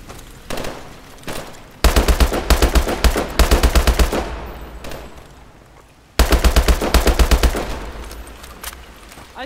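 Unsilenced automatic gunfire in the video game Call of Duty: Advanced Warfare, loud rapid bursts of shots in two main volleys with a short lull between, no talking.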